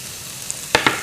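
Saltfish tipped into a pan of sauteing onion and garlic, a steady background sizzle broken by two quick louder splattering bursts near the end, close up with no talking.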